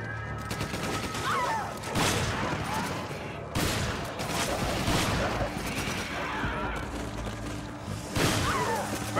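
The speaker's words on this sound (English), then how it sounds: "I shot him before he jumped on you." Gunfire from the video game Resident Evil 5, several sharp shots standing out at intervals over a busy, noisy game soundscape, with a voice speaking at times.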